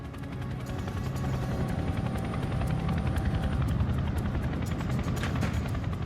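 A large Chinook twin-rotor military helicopter flies in low over Scottish airspace, its heavy, steady rotor thudding and engine roar loud and continuous throughout.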